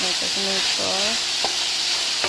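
Onion sautéing in a pan for Ilocano ginisang upo in a home kitchen, a steady bright sizzle throughout with a few sharp clinks of a utensil against the pan.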